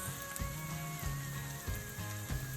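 Chopped onions and green peppers frying in vegetable oil in a pan, a steady close sizzle with irregular crackles and pops, heard alone without talk.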